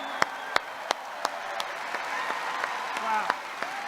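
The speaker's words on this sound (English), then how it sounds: "big round of applause" Applause from a crowd at a Donald Trump rally in Roanoke, Virginia, honoring veterans, a steady moderate wash of clapping with a few sharp louder claps standing out, heard at some distance.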